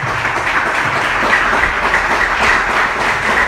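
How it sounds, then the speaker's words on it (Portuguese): A church congregation applauds during a sermon, a steady wash of many hands clapping at once. It fills the room evenly and goes on without a break, with no speech over it. "Aplauda ele"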